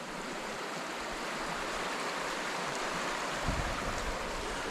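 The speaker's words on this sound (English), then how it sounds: "River running straight, well, down from the mountains." A mountain river rushes past a snowy wild campsite, giving a steady, broad wash of flowing water that stays even throughout, with a brief low thump near the end.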